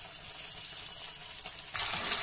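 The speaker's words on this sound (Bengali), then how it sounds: "এবার আমরা ফুলকপি নিচের পোর্শনটা এবং সাইড গুলোকে ভালো করে ভাজছি" Cauliflower pieces fry in a pan for a Bengali cauliflower roast, giving a steady close hiss and crackle that grows louder and denser near the end, with no talking.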